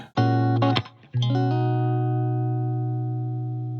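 Strummed guitar chords ring out clearly, a short chord then a second strum that sustains and slowly fades, with no voices.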